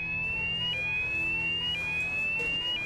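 A care home fire alarm sounds fairly quietly and continuously, a steady high electronic tone with faint repeating pulses about once a second, with no one talking.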